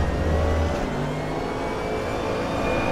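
Damaged GT3 race car engine in RaceRoom at Road America, a loud, close, steady mechanical drone with a brief rev near the start, heard alone.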